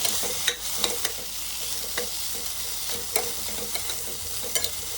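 Quinoa paneer pulao with turmeric, salt and cashews being stirred and fried in a pan, a steady hiss of sizzling with repeated sharp scrapes and clinks of the spoon, close and alone with no voices.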